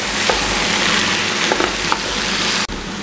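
Spinach and potatoes fry in a pan for aloo palak, with a continuous close sizzle and a few light scraping stirs breaking through.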